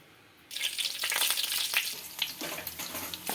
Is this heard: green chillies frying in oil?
yes